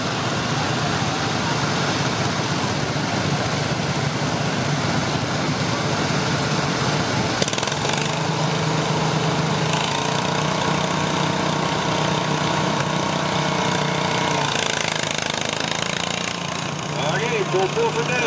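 A garden tractor engine drones steadily as it pulls a stone boat at a county fair competition, loud and continuous with slight shifts in load, while an announcer and crowd noise carry underneath.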